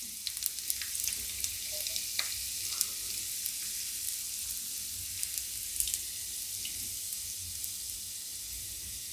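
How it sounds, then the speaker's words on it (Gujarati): Garlic sizzling in hot oil in a pan, a steady bright frying hiss with scattered pops and crackles throughout, close and fairly loud, with no talk. "આ આપણું તેલ ગરમ થઈ ગયું છે તો એમાં આપણે પહેલાં લસણ નાખશું"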